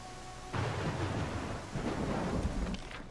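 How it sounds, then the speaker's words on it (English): A thunderstorm in the game Pathfinder: Kingmaker sets in abruptly with steady heavy rain and a low rumbling of thunder, continuous and fairly loud with no voices over it. "Well, the storm is annoying."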